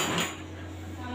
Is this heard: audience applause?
no